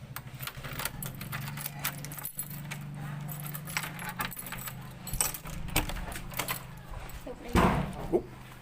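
Apartment keys jangle and clink as they are pulled out at a corner apartment door in Cambodia, close and fairly loud, with a steady low hum and a few faint voices in the background.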